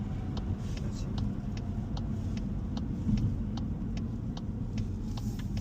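Interior of a Volkswagen Golf 8 GTE plug-in hybrid (250 hp) driving and turning: a low steady road and drivetrain hum fills the cabin, with a regular ticking turn signal clicking throughout.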